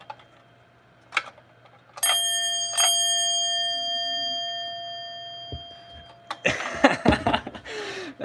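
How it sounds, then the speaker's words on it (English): A dinner bell taken from its packaging rings twice with clear, sustained metallic tones that decay slowly, followed by handling clatter and rustling of packing material. "Listen to that. Yep, that's the Dinner Bell."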